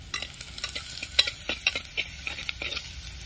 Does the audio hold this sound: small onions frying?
yes